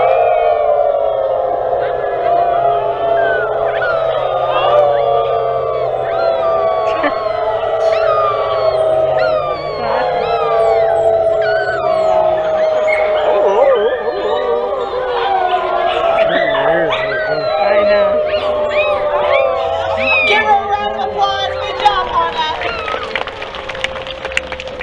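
Crowd of people at a zoo show at the California Mid State Fair howling in imitation of coyotes, many overlapping rising and falling voices forming a loud, sustained chorus that fades in stragglers.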